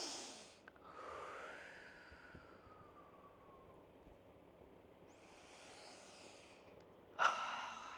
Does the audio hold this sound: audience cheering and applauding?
no